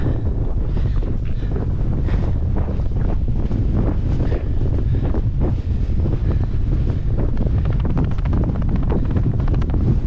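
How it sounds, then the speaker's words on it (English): Heavy wind buffeting the microphone on the Mission Peak hiking trail in California, with a constant low roar and rumble, loud and unbroken for the whole stretch. "Very windy."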